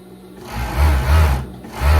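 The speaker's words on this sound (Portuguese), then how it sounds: "Eu estou costurando aqui já na ponto conjugado" Overlock sewing machine running a four-thread safety seam on a viscose dress, loud close motor hum rising and falling in a few short bursts, no voices.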